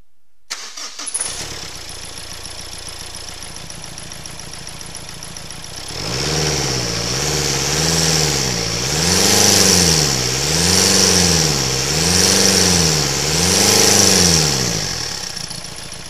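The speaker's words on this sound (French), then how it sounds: "après notre réparation nous allons démarrer le véhicule" A Renault Clio dCi diesel engine, after injector repair, cranks and catches after a quiet start, then idles and revs up repeatedly in steady rising and falling surges, close and loud.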